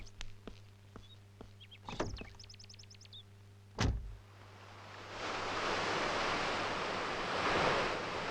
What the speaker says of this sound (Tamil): இங்க கடல் அலைங்க மட்டும்தான் இருக்கு